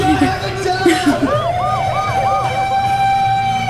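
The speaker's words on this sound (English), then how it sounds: "That sounds like that sounded like a siren." A loud siren wails, then switches to a rapid rising-and-falling yelp, close by, with voices briefly heard at the start.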